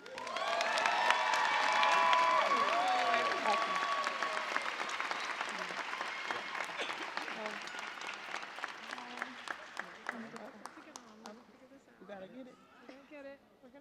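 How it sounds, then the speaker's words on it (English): A large college graduation crowd claps and cheers, with whoops and shouts over the clapping early on; the applause then thins to scattered claps that fade out toward the end. "Another round of applause for our valedictorian, salutatorian, and student speakers."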